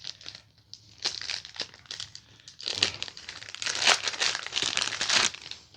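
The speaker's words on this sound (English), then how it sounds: "If you have to, use your teeth to make a little notch to get the tip so you can tear it." Double plastic packaging of an Israeli bandage is torn and crinkled open up close, in bursts of rustling and ripping that grow busier toward the end.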